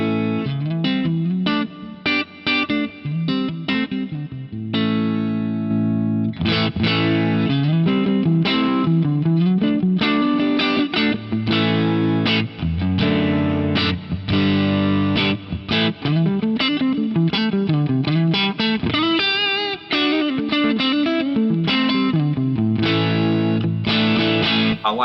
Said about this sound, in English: We'll start with the studio feedforward compressor at stock settings.